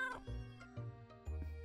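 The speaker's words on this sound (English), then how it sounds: "Why are they meowing so loud?" Kittens meow loudly in quick succession, three or four short close cries with no talking over them.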